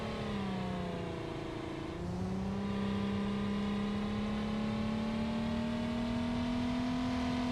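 Ford Mustang V6 engine revving in the BeamNG driving game, a loud steady buzzing drone that dips briefly, then climbs slowly and holds at a higher pitch, with no voices over it.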